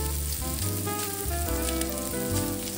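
Gumbo ingredients browning in Blue Bonnet margarine give off a steady, close frying sizzle that runs unbroken throughout with no talking.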